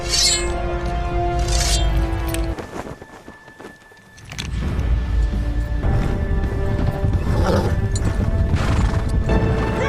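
Horses gallop with heavy pounding hooves and a shrill whinny in a battle scene from the film The Last Samurai, amid crashing and clashing noise, briefly dropping before the thunder of hooves resumes.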